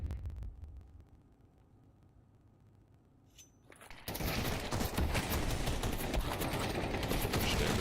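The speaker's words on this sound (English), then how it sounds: "Done there from Penny's AK. That was so much damage there" AK rifle gunfire in a Counter-Strike match: quiet at first, then from about four seconds a loud, dense stream of rapid automatic shots fills the rest, with no talk over it.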